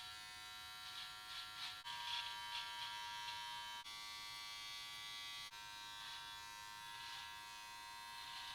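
A Novah electric hair and beard trimmer buzzes steadily while trimming a mustache and beard, a close, continuous high-pitched motor hum with slight wavering as it moves over the hair and a few brief clicks, with no talking.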